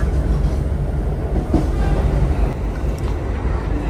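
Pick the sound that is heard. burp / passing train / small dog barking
passing train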